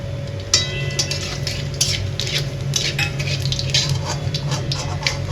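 Black cumin seeds and dried red chillies fry in a pan, a soft sizzle under frequent metallic clinks and scrapes of a spatula stirring, close by, with no talking.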